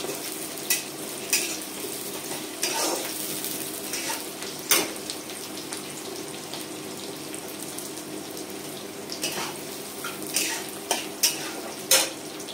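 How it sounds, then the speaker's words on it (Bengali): A kilo of mutton browning in a pan gives a continuous moderate sizzle, broken by repeated stirring scrapes and clatters at irregular intervals. "এরপর এটা আমি ব্রাউন করে ভালো করে ভেজে নেব।"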